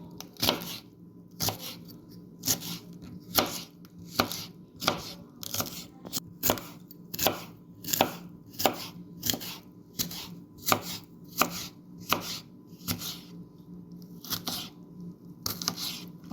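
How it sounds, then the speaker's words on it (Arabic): Knife chopping peppers on a cutting board for a shrimp tray, steady rhythmic thuds about once per second, close and clear over a low background hum. "هبدأ برضو اقطع الفلفل معايا كده."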